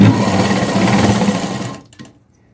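A sewing machine runs fast and close, stitching a folded hem on a boat-neck blouse, a loud steady mechanical whir for nearly two seconds before stopping, followed by a few faint handling clicks.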